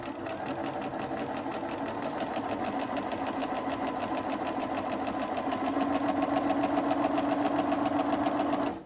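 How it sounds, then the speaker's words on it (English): A sewing machine runs steadily and fairly loudly along the edge of a fabric mask, its rapid needle rhythm humming without a break as it stitches forward and back-stitches; no one talks. "I'm going to sew a couple stitches and then I'm going to back stitch and then keep going forward."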